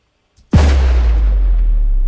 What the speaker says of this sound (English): this is literally an explosion sound right here